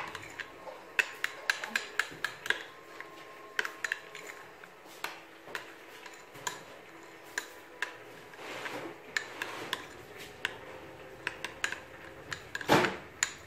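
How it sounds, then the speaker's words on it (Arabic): Salad ingredients being stirred together with mayonnaise in a bowl, a utensil clinking and scraping against the sides in irregular taps and rubs, close and fairly quiet. "هنا انا ضفت المايونيز، راح نخلط كلش مع بعض."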